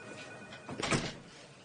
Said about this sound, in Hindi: दरवाजा बंद करो और बैठ जाओ।